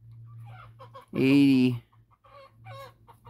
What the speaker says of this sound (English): Even the chickens don't like this.